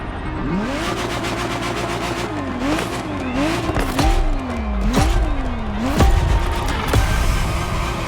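Ferrari Testarossa supercar in The Crew Motorfest racing game, engine revving up and down through repeated gear shifts with a rising, falling pitch, loud and close, with brief tire squeal and a few sharp impacts.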